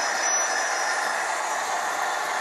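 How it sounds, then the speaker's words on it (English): A Bachmann class 70 Freightliner model locomotive with a digital sound decoder gives its braking effect, a steady hissing, faintly squealing rail noise that stays even and fairly quiet with no talk over it. "This has got braking in it as well,"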